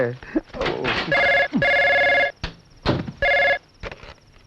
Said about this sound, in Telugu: ఎవడయ్యా వేళ ఫోన్ చేసేది